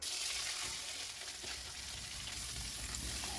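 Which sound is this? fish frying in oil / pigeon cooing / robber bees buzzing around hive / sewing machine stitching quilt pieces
fish frying in oil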